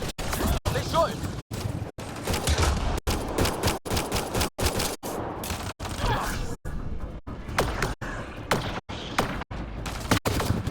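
Rapid bursts of gunfire from a Mass Effect Andromeda firefight, dense repeated shots and volleys filling the scene, loud and continuous with brief gaps, voices shouting underneath.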